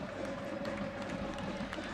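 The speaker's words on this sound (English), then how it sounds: "A packed house, a lively atmosphere." A sellout stadium crowd at a soccer match at Torero Stadium in San Diego, a constant dense murmur and roar heard at a distance, steady and moderately loud across the whole moment.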